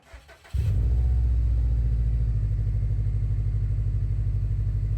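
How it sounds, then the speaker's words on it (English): A Subaru STi with an SPT aftermarket exhaust fires up and settles into a steady, deep idle. The low burble is loud and close and stays constant, with no talking. "Honestly, not that much louder than the stock exhaust at idle"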